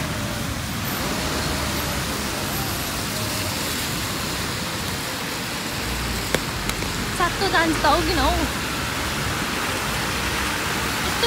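Steady rain falling outdoors near a garden, a broad continuous hiss throughout, with a person speaking briefly over it near the end.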